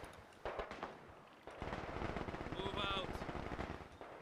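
Machine gun fire in Company of Heroes 2, a World War II strategy game, rattling in dense rapid bursts beneath game noise and a voice talking over it.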